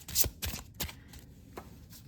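Tarot cards being shuffled by hand in a few quick, soft riffling bursts, close and quiet, with no talking.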